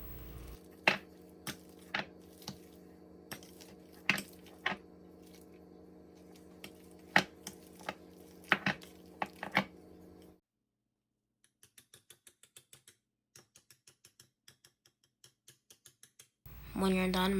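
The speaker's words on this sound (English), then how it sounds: "done peeling your bananas, mash it with a fork or a potato masher" Peeled bananas being mashed with a fork or potato masher: sharp, irregular squishy taps and clicks over a steady low hum, followed by fainter, quicker ticking strokes.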